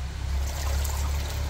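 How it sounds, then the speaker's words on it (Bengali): Malabar spinach leaves being washed by hand in water in a village kitchen, a steady close sloshing and trickling wash with a low rumble underneath, no voices. "পুঁই শাকগুলো এখন একটু ভালো করে ধুয়ে নেই।"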